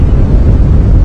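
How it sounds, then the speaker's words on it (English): Steady low wind roaring and buffeting against the microphone during a morning safari drive at Djuma Game Reserve, a continuous rumbling gust with no voices. "can hear the wind gusting."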